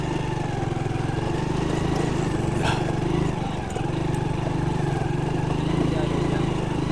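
Motorcycle riding along a road under construction, its engine droning steadily and closely throughout with continuous wind and road rumble.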